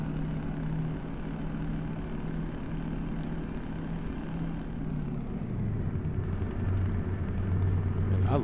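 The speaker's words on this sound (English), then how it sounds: "I love the sound of this engine" Scania truck engine in Euro Truck Simulator 2, a steady low drone with a droning hum that shifts down in pitch partway through, continuous and fairly loud throughout.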